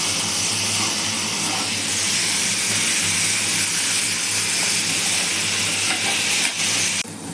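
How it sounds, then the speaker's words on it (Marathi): Chopped onion and tomato fry in a pan with a steady, loud sizzle and hiss, with faint stirring running throughout and a slight drop in intensity near the end. "आता त्याच्यात टोमॅटो टाकून द्या. ते पण चांगलं परतून द्यायचं."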